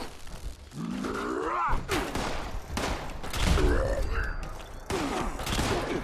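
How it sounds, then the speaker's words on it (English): Bursts of gunfire from another player in Fallout 76, several sharp volleys spread across the stretch with a low thud midway, mixed with in-game noises and swooping whooshes. "I'm getting shot by a guy that's right in there."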